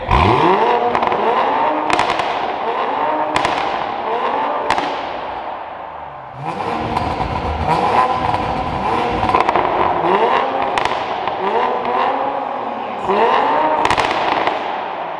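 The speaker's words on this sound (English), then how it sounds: "Let's rev it in granny mode." A widebody Toyota Supra engine revs hard in repeated bursts, each blip followed by sharp pops and crackles like firecrackers, loud and close with short pauses between; voices chatter faintly in the background.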